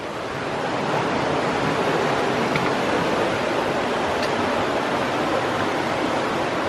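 A river along the Appalachian Trail rushes steadily past, a loud, broad, unbroken wash of flowing water close by, with no voices over it.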